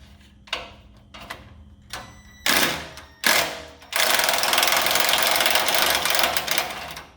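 Transmission pan bolts on a 2001 Ford Ranger being loosened with a power tool: several short sharp bursts, then a long continuous rattling whir up close.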